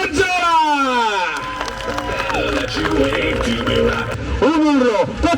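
Crowd at a live FMX freestyle motocross show roaring and cheering, a dense wash of shouts and whistles, loud and sustained, with an announcer's amplified voice over it.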